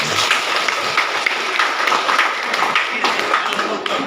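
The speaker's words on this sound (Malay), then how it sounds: "Jadi itu satu tepukan yang gemuruh untuk diri sendiri." An audience at a staff program claps together in a steady, dense round of applause that carries on throughout, with a little faint speech mixed in.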